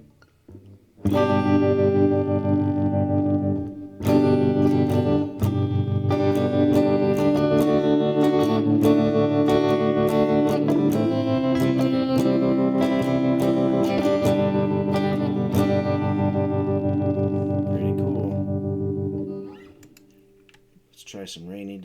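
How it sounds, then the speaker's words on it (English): Sustained distorted electric guitar through a gritty tremolo effect in BandLab Cakewalk, with a pulsing, wavering texture, loud and continuous, fading out near the end. "Let's try this gritty tremolo."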